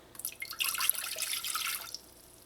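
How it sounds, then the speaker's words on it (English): One cup of water poured into a pot for heating on the stove, a short splashing trickle that starts abruptly, swells for about a second and a half, then stops, with no voices. "add your 1 cup of water"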